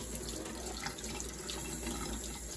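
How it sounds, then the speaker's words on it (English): A paint brush rinsed under clear running tap water in a sink, a steady, fairly loud rushing stream with light splashing throughout and no voices. "Rinse out any excess paint just with clear running water."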